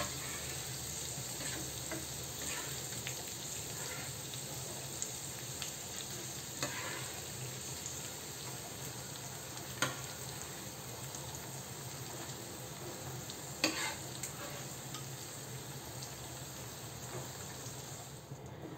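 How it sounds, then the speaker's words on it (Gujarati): A white sauce is stirred together with pesto in a hot pan, giving a continuous soft sizzle with gentle scraping and a few sharper clinks of the spoon against the pan. "હવે આપણે વ્હાઈટ સોસ એડ કરી દઈશું એમાં"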